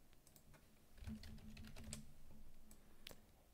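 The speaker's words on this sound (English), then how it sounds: "So I type content" Typing on a computer keyboard while entering a file path in an Unreal Engine 4 Blueprint; a few soft, scattered key clicks sound close and quiet over a faint low hum, with no voice.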